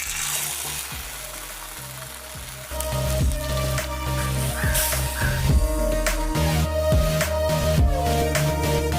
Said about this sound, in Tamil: எண்ணெய் ஊற்றி காயை எடுத்து வச்சு ரோஸ்ட் பண்ணுவோம்